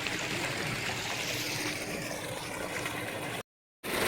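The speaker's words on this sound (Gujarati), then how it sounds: "પાણી ચાલુ થઈ ગયું." Water rushes out of a burst pipe in a steady, loud, broadband gush that runs almost without a break and then cuts off briefly near the end.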